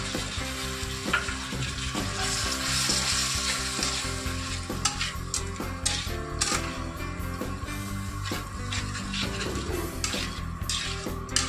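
Spices added to fried onions and frying in a pan, a loud continuous sizzle with spatula scrapes and clinks of metal against the pan, close up and without speech.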